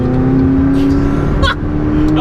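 McLaren 675LT supercar engine running with a steady, loud drone and a brief throttle blip midway, heard close from inside the car with some talk nearby.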